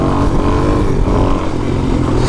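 A Suzuki DRZ400 motorcycle accelerates hard in third gear, its engine a loud, close, continuous roar that holds steady throughout.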